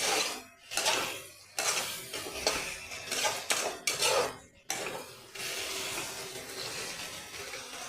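A spatula clatters and scrapes in a pan as spices and chopped tomato are stirred and cooked down for cauliflower and potato dum, with bursts of metallic knocks followed by a softer steady sizzle.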